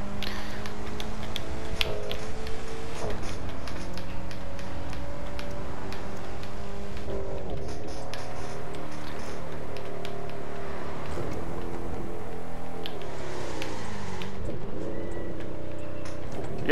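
A car in The Crew 2 revs and shifts through its gears, the engine note rising and falling in repeated pulls with a faint crackling rattle over long stretches of driving.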